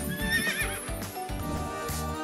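A horse gives a loud, close whinny, with hoof clip-clops underneath, in a short burst with no speech.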